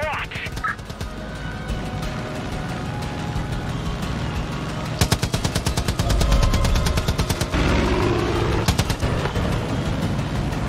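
Rapid gunfire in the Far Cry 5 island combat game, with bursts of automatic shots crackling over a dense, constant mix of game noise; a voice talks throughout.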